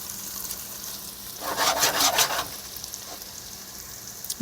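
Homemade tomato pasta sauce gets a quick stir in a sizzling pan, a soft frying hiss that swells for about a second of scraping stirring before settling back to a faint sizzle.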